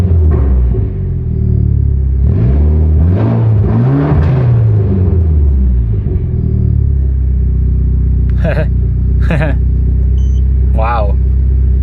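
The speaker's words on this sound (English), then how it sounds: "I'm gonna rev her up." A Mitsubishi Evo 10 engine rumbles steadily at idle, swelling through a rising and falling rev in the middle, with loud cam gear noise, while a person's voice cuts in briefly near the end.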